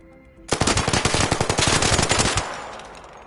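Full-auto gunfire in the video game Arc Raiders, fired with the recoil left uncontrolled: a loud rapid string of about twenty closely spaced shots for roughly two seconds, then a fading echo tail.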